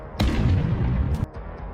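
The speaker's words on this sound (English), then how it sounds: "At first, there was only a small explosion." A small explosion from a drone strike on an armored vehicle, a sudden sharp blast followed by a rumbling roar that cuts off, then another quick crack, heard without talk.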